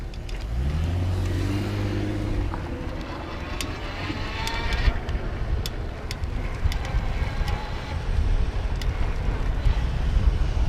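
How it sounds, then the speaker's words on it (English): A Benelli Classica electric bike motor engages at its highest assist level, a steady whirring hum that rises in pitch over wind and road noise, with no talking. "so you can hear the motor activating"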